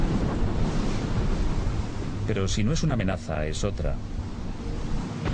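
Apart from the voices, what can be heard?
wind and rough sea waves aboard a container ship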